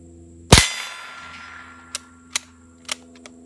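A single loud unsuppressed pistol shot firing Winchester White Box ammunition, with a sharp metallic ring from the round striking a steel target, followed by a decaying echo and a few fainter clinks.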